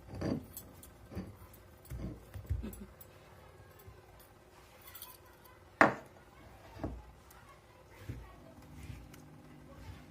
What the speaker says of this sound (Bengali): কাঁচা লঙ্কাগুলো আধকচা করে বাটলেই হবে, একটু থেঁতলে নেওয়া মতো করেই